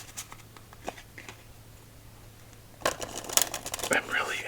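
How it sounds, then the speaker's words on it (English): A deck of playing cards is being shuffled at a quiet tabletop in a calm, close setting. Faint soft handling ticks come first, then a louder, dense riffling burst of cards fluttering together near the end, with no talk. "let's give this deck 3 more shuffles"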